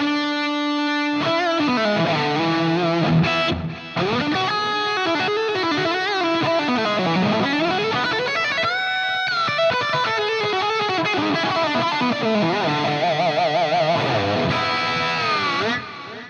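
Electric guitar runs through a Fractal processor with ambient delay and plate reverb, playing sustained melodic lines whose repeats smear into a wide, continuous wash at steady loudness throughout.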